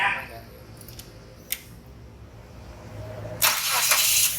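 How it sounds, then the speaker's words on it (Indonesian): A used car engine with its radiator cap removed cranks and catches near the end, a sudden loud start after quiet background with a few faint clicks before it. "Setelah tutup radiator kita buka, baru kita nyalain mesinnya."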